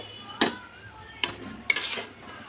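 Snake gourd poppy seed curry being tipped from a pan onto a plate, with three sharp metallic clinks and scrapes of the pan against the plate in a quiet kitchen.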